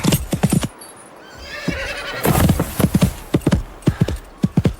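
In a radio drama, a horse's hooves clip-clop in quick rhythmic bursts, broken by a loud drawn-out neigh in the middle, then more galloping beats close by, with no voices.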